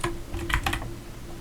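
Typing on a computer keyboard while writing code, a quick cluster of close, crisp key clicks followed by a quieter tail, with no voices.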